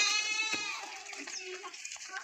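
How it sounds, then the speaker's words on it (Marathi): Goats on a farm let out a single close, loud, wavering bleat that fades over about two seconds, with faint farmyard noise behind and no talking. "बघा शेळ्या किती अडवणी करून राहिल्यात बाबांना."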